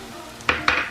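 Chopped onions are stirred while sautéing in a pan, two quick metallic clinks of a spoon against the pan over a faint background hiss.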